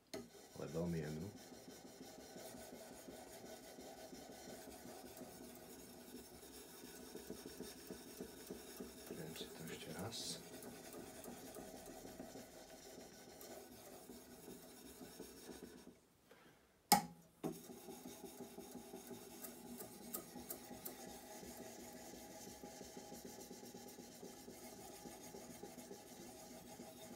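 A torsion damascus knife blade drawn against a fine file, a quiet, steady rasping stroke repeated over and over close by, with a brief louder knock partway through.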